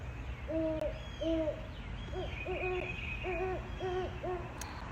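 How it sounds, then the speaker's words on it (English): A great horned owl gives deep, soft hoots in short paired bursts, repeating steadily at a moderate distance over a low background rumble, at Myrtle Beach State Park. "great horned owls are going to be your typical hoot owl"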